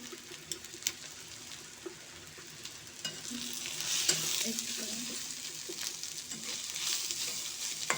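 Food frying in a pan gives a steady, close hiss with a few scattered stirring clicks. The sizzle grows fuller and louder partway through.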